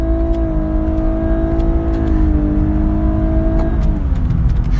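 A Lexus LC 500h engine drones loudly and steadily, its pitch shifting as it revs and accelerates, with a sharper climb near the end.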